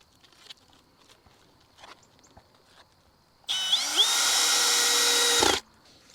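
A power drill pre-drills holes in wooden end-wall boards of a Quonset greenhouse, a single loud whirring burst of about two seconds with rising pitch, preceded by soft handling knocks and footsteps.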